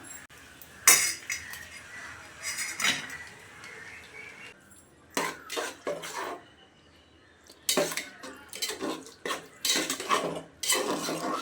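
A spoon clatters and scrapes in a metal pot while curd is stirred into masala for chicken biryani: irregular clinks and scraping strokes in bursts with short pauses, close by, over faint background noise.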